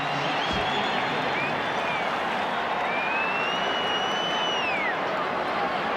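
A stadium crowd at the 1989 South Sydney Rabbitohs v Balmain Tigers rugby league major semi final makes a steady, distant roar of applause and noise. Thin whistles rise above it now and then.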